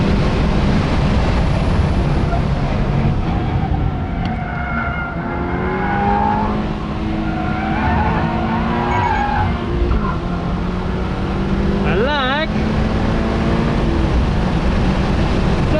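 A Toyota GR86 on a track with low-grip tires roars loudly and continuously, engine note rising and falling as the tires squeal in long wavering tones, briefly sharper near the end.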